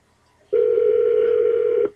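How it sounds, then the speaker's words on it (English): A single steady telephone tone sounds loud and close, holding unbroken for about one and a half seconds before cutting off, with near silence on either side. "My other phone is ringing"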